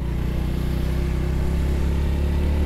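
A Honda POP 110 small motorcycle cruises along a long-distance road, its single-cylinder engine humming in a steady, even drone with rushing wind noise and no pauses.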